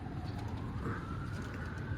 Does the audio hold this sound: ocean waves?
no